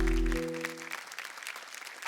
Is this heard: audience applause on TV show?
yes